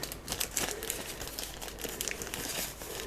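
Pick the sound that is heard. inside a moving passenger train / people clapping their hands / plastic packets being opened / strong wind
plastic packets being opened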